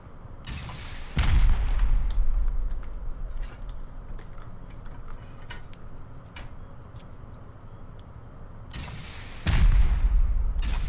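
Rocket explosions go off in a Rust raid, heavy booming blasts with long rumbling tails, one near the start and another near the end, separated by quieter ticking game sounds.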